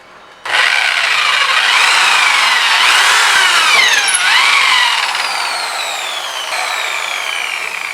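A power drill bores straight through a hole in a broken bed frame, starting abruptly and running as a loud, close, steady whine with slight pitch shifts under load for several seconds.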